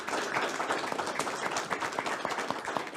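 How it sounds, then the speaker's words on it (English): Conference audience applause for the speakers at a panel on the ethical perspectives of climate health impacts, moderately loud and continuous, with the dense clapping of many hands in the room. "we can all share in a round of applause for"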